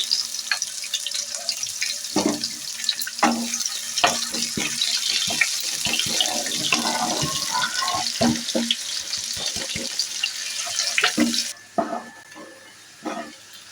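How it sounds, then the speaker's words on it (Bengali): Onions frying for beresta in oil left from frying fish, a bright constant sizzle with irregular stirring knocks and scrapes, cutting out abruptly near the end. "মাছ ভেজে নেওয়ার পরে যে তেলটা রয়ে গেছে ওই তেলের মধ্যে এবার পেঁয়াজ দিয়ে দিচ্ছি দিয়ে পেঁয়াজ বেরেস্টটা তৈরি করে নিচ্ছি"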